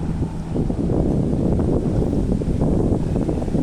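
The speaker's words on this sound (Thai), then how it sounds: "ลมแรงมากเลยค่ะสมาชิกทุกท่าน" Strong wind buffets the microphone on a boat trip along the Chao Phraya River, a loud steady rumbling roar with faint water and engine noise underneath and no talking.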